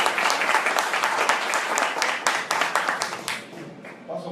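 Audience applause at a lecture held by a bar association, many hands clapping steadily at moderate distance, then thinning and fading out toward the end.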